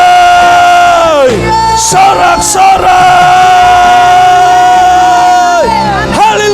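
A church congregation at a Sunday service shouts and cheers for joy, a loud mass of voices rising in sustained, wavering yells over a steady musical backing, swelling in bursts and staying full throughout.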